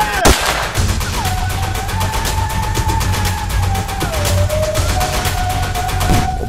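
Rapid gunfire rattles through a French film trailer, a sharp shot near the start followed by sustained bursts over tense music and a low droning tone.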